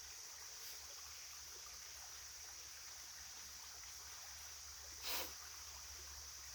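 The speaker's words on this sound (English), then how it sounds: "Like this creek behind me," A creek flows steadily somewhere behind, heard as a faint, even wash of water with a soft hiss, broken once by a brief brighter splash near the end.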